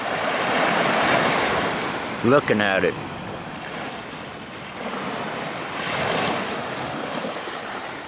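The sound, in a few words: Caribbean Sea waves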